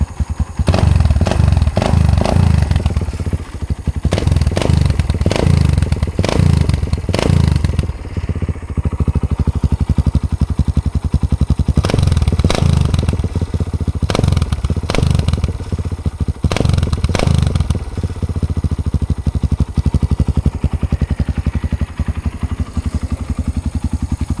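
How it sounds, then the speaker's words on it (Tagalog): Kawasaki Barako II 175 motorcycle fitted with a 28mm racing carburetor, loud and close, idling with a rapid steady thump and several sharp bursts of throttle revving, no voices. "ganyan siya mag minor guys, kasi ito yung response ng throttle niya"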